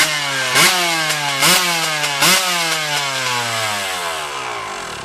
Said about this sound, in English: So that was the engine starting